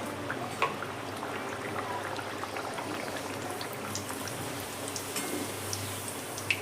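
Mango luchi dough sizzles in very hot oil, a steady crackling hiss dotted with small pops and bubbling at moderate distance, with no one talking.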